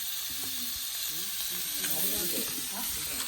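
Chicken frying on a tawa at an outdoor party cook-up, with a steady close sizzle and hiss running throughout while voices murmur faintly beneath it.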